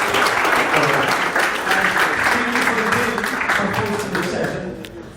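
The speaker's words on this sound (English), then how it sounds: "Let's give Simas a round of applause for sharing the story." A round of applause from an evening event audience for a guest who just shared his story, full and steady clapping throughout that gradually thins and fades toward the end, with some voices mixed in.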